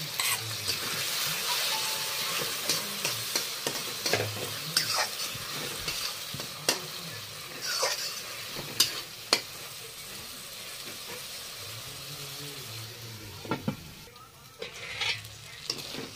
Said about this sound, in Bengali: দিয়া ভালো করে কষাই নিব।